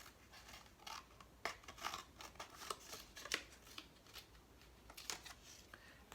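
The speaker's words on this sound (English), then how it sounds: "So I'm going to cut it in half like this." Scissors snipping through a paper clock to halve it, a run of quiet, irregular crisp cuts and rustles up close, with no talking.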